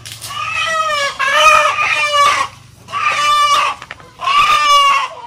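Free-range chickens at a small family farm give three loud, close, harmonic calls like crowing or squawking, separated by short pauses, with a low hum underneath and no talking.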